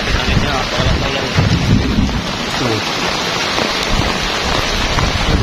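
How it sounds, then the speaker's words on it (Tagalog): Heavy rain pours down steadily while rumbles of thunder roll underneath, loud and close. "malakas nga yung ulan"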